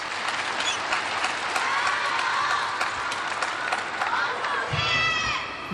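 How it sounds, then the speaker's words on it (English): A large table tennis crowd at a world championship match in Doha claps and cheers in a dense continuous roar, with scattered shouts and whistles rising near the end. "You can hear the crowd still shouting his name"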